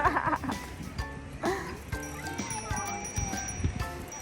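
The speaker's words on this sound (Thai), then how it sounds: "มีกระดิ่งด้วย" A bicycle bell rings in bright, sustained tones on a child's first bike ride during a park picnic at Tsukisamu in Sapporo, with a mother's voice, scattered bustle and clattering nearby.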